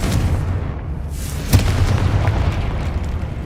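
A Confringo spell bursts in Hogwarts Legacy with a single deep boom partway through, set over a steady rumbling game soundscape with no talk.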